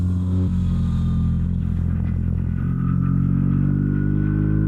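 BMW R 1300 RT motorcycle with automatic clutch running steadily up close, its engine note dipping briefly at a gear change from fourth to fifth and then holding a smooth, even drone.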